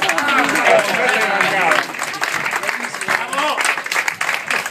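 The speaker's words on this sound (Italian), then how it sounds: "Un bel applauso." An audience claps at an Italian courtyard gathering as a shirt is presented, applause mixed with excited shouting and chatter that continues as the clapping thins.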